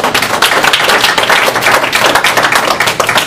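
An audience claps together at the close of a talk on ecosystem-based disaster risk reduction, producing a dense, loud burst of applause that continues steadily throughout.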